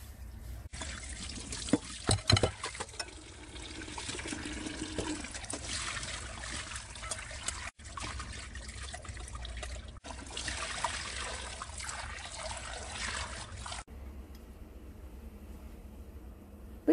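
Tap water runs steadily into a sink while soaked black moss is rinsed, a close, continuous splashing flow that lasts most of the time, briefly interrupted twice, before it cuts off near the end.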